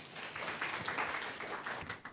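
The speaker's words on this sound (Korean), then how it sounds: "큰 박수로 맞이해 주십시오." A conference audience at a Busan youth panel event claps to welcome a presenter, a faint, distant wash of steady applause lasting a couple of seconds.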